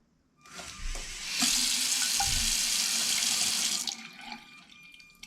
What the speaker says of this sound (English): The water is almost dripping back on the sensor